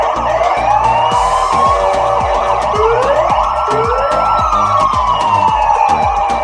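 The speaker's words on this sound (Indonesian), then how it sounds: "Wadidaw, lihat ada mobil polisi teman-teman." A toy police car siren wails in a loud, close, looping electronic pattern of rising and falling tones with a rapid pulsing beat underneath, continuing steadily without any talking.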